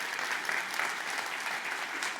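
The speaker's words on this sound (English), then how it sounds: "Come on, applause." Keynote audience at a MongoDB London tech conference applauding, a steady dense wash of clapping from a large crowd with no voices over it.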